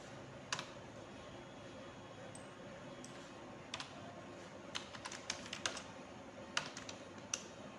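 Scattered keystrokes on a computer keyboard while an Excel formula is edited, irregular soft clicks in short bursts, close and fairly quiet against a faint room hum, with no speech.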